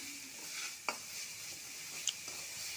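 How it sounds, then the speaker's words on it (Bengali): Masala frying with onions in a pan for pabda fish curry, giving a soft steady sizzle with a few brief stirring scrapes, close and quiet, with no one talking. "দেখো, কষে আসছে মশলাটা।"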